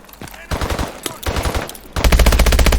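Machine gun fire from the video game Call of Duty Advanced Warfare, loud rapid bursts of shots in quick succession that build into a sustained stream of fire.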